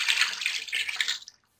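Water pours from a jug into a pot of wheat and rice for mutton khichra, a steady close splashing stream for over a second before it stops.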